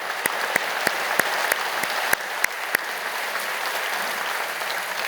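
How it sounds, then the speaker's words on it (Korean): Applause from a church prayer-meeting congregation, with sharp individual claps standing out over a steady wash of clapping that continues and gradually thins. "우리 귀한 분들에게도 큰 박수로 감사를 표하십니다"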